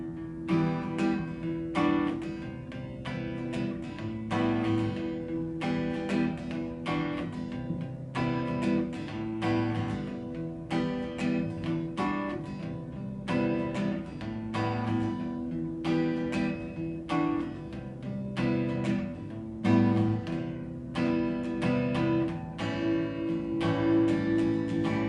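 Guitar plays a full song, a continuous strummed and picked part with steady rhythmic accents, close and full for about twenty-five seconds.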